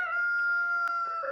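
A free-ranging Chantecler rooster crows once, a clear, loud, sustained call that dominates, with a brief cluck or peep from other chickens near the end.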